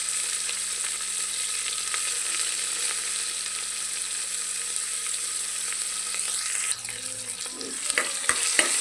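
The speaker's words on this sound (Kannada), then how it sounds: "ಈರುಳ್ಳಿ ಸ್ವಲ್ಪ ಗೋಲ್ಡನ್ ಕಲರ್ ಬರ್ಬೇಕು ನೋಡ್ರಿ. ಎಣ್ಣೆ ಒಳಗೆ ಫ್ರೈ ಆಗಬೇಕು." Onions frying in oil for vegetable pulao: a steady, close hiss of sizzling fat, with stirring and clinks of a spoon in the pan near the end.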